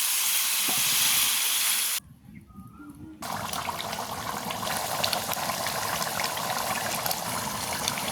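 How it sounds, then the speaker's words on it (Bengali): Water poured into a pan of pigeon meat curry that was frying, a loud sizzle briefly cut to a quieter stretch, then a steady bubbling hiss as the liquid heats, with no talk. "জল দেবো"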